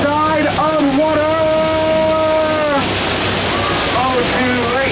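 Rushing waterfall on the Jungle Cruise ride at Disneyland, a steady loud roar of falling water beneath a voice that talks over it throughout.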